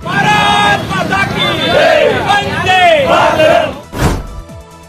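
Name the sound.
crowd celebrating and cheering in Solapur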